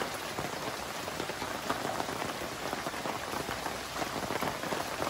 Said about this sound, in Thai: ฝนตกเสียงดัง